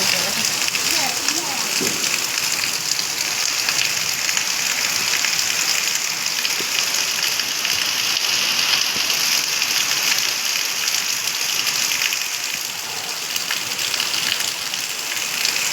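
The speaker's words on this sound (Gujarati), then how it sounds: "બહુ વરસાદ આવી ગયો છે ઊંધો વરસાદ છે" Steady heavy rain pours continuously, a dense hiss of drops drumming on surfaces, with a voice occasionally audible beneath the downpour.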